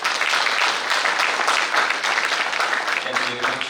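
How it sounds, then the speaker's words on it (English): Audience applause fills a Toastmasters club installation ceremony, steady dense clapping from a large crowd that holds evenly throughout, with a faint voice starting near the end. "it's time for them to give a good round of applause and recognize them"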